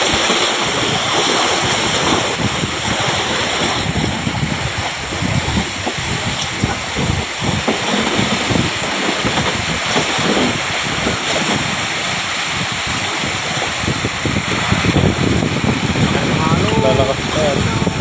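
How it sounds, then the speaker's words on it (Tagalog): Rough, constant roar of surf and strong wind buffeting the microphone, with broad crashing waves and occasional voices mixed in. "Yan ano, malaki yung alon eh."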